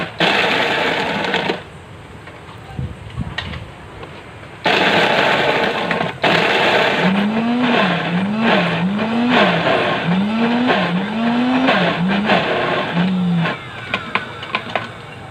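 A blender whirs loudly and close as it blends a passion fruit smoothie for a 16 oz cup, the motor pitch wobbling in repeated surges before settling and cutting out, with no talking.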